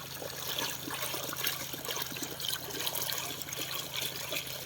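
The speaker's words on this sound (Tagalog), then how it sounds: "Ayan o ang kanyang bulwak ng tubig." Water gushing and flowing into irrigation canals, a steady moderate trickling rush heard up close and continuous, with no talking.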